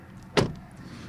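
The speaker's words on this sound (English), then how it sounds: "I can show you the door closing sound, which is somewhat okay." Renault Arkana RS Line car door closing, a single quick solid thump that stands alone against a quiet background.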